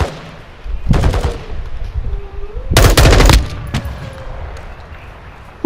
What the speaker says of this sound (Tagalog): May putok sa likod.